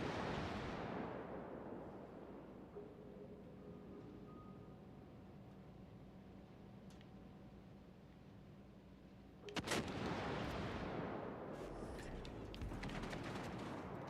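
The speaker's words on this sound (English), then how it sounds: "the battleship just fired as well" Heavy battleship guns fire in the naval combat game World of Warships Legends, a loud boom near the start decaying into a long rumble, then a second sharp blast with rolling echo later on.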